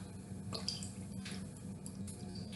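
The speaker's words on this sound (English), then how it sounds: "I'm going to pour my olive oil on top." Olive oil pours over peeled garlic cloves in a kitchen, a soft, faint trickle and glug of liquid running steadily for a couple of seconds.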